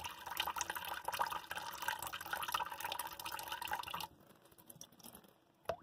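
Tap water runs steadily into a sink while a cat plays in the stream, a dense splashing wash that stops abruptly partway through, leaving quieter drips and a brief clatter near the end.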